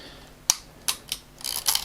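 The rewind lever on a Voigtlander Vito CD camera is flipped up and turned, giving a sharp click followed by a few small mechanical clicks and a brief ratcheting whir, close and fairly quiet.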